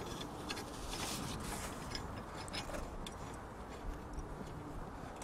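A ratchet tightens a bolt on the top of a Jeep Wrangler JK, producing quick, faint, repeated clicking ticks in an irregular rhythm over soft background noise, with no speech.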